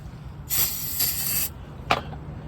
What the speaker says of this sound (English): I'm gonna spray it again.